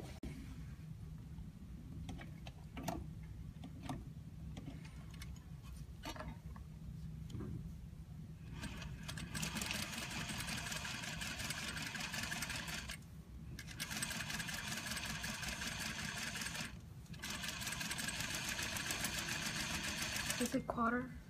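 A sewing machine stitches a French seam in steady runs of loud mechanical whirring, stopping and restarting a few times. A person talks quietly beforehand.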